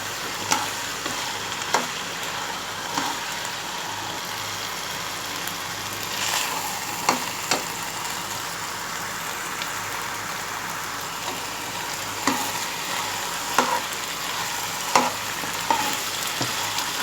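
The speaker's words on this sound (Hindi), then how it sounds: "अच्छी तरह भूनेंगे अब हम इन सबको कीमे में, आलू मटर के साथ अच्छी तरह भून देंगे हम" Potatoes, peas and minced meat fry in a pan with a steady, hissing sizzle, broken every second or so by sharp scrapes and clacks of a spoon stirring, close and alone without talk.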